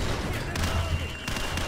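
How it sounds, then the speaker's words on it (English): A flashbang grenade goes off in Call of Duty 4, giving a harsh burst of noise with sharp cracks amid loud, continuous game sounds. "Flashbang."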